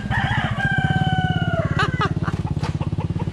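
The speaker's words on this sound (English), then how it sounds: "Listen to these roosters, man. They've got a set of lungs on them" A rooster crows loudly on an island, a long rising call, over a steady rumbling engine-like drone; another crow starts near the end.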